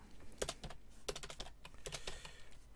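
Quick bursts of keystrokes on a computer keyboard while entering code for a Unity map editor, close and fairly quiet, in uneven clusters with short pauses.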